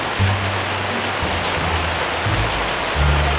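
Steady rain falls outside in a constant, even wash of noise, with a low hum underneath and no clear pauses.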